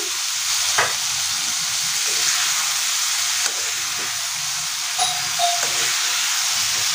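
Pre-fried drumstick pods go into a pan for drumstick curry and sizzle with a steady frying hiss, while a few scrapes and taps from stirring come through clearly with no one talking.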